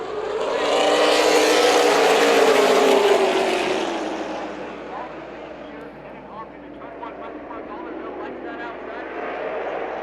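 Super late model stock cars race at Tucson Speedway, a loud engine roar swelling past in the first few seconds, then settling into a steadier, more distant drone of cars circling the track.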